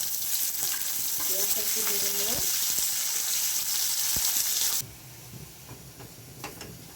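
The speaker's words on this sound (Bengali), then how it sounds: "আমার এদিকে পেঁয়াজটা লাল লাল করে প্রায় একটু ভাজা হচ্ছে" Onions frying in oil with bay leaf, a steady close sizzle with a few spatula scrapes, the hiss dropping abruptly to a softer crackle partway through.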